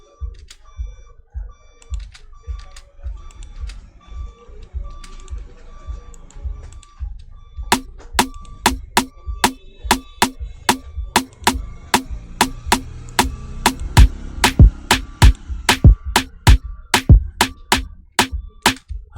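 A Ugandan hip-hop drum beat programmed in FL Studio, a quiet muffled intro giving way to sharp, evenly spaced snare and rim clicks in a steady driving rhythm, loud and close with no voices.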